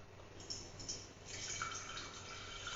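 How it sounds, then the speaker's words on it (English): Hot tea for kombucha being poured, a quiet liquid stream that starts softly and grows into a steadier trickling pour, faint and close. "It is 300 ml right now, hot tea. I'm gonna pour this."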